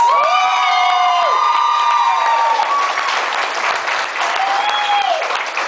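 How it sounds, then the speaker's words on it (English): Loud clapping from a crowd at a VFW hall, with high whoops and shouted cheers rising over it at the start and again near the end. "So give me a round of applause."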